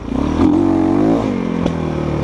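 A Geon Terrax 250 motorcycle engine idles roughly and revs briefly, with a couple of sharp popping bangs from the exhaust as it backfires, close and loud.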